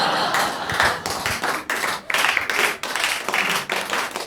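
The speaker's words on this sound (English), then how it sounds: "Thank you for clapping at that" A stand-up comedy crowd claps in uneven bursts, individual hand claps audible as sharp repeated hits that surge and dip over several seconds.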